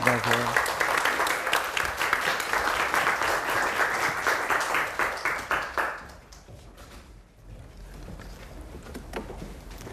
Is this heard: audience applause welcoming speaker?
yes